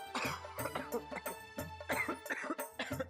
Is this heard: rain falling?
no